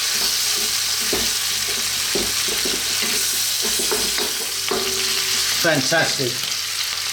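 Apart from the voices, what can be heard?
tuna frying and being stirred in a pan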